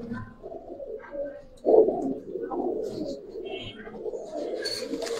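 Giribaz pigeons cooing in low, throaty rolls, a louder close coo surging midway and continuing steadily over faint background noise.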